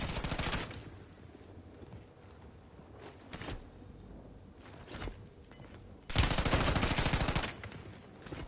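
Bursts of rapid gunfire in a battle royale video game, with a sustained volley at the start, scattered shorter shots in the middle and a loud, dense burst near the end.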